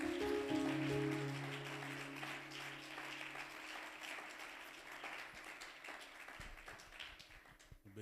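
Church congregation applauding Jesus during a French-language service, a dense wash of clapping that starts loud and thins gradually over several seconds, with sustained organ or keyboard tones underneath.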